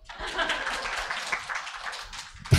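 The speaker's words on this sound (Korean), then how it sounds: "자, 박수." An audience of teachers at an education seminar gives a short burst of clapping that swells and then fades, with faint voices underneath.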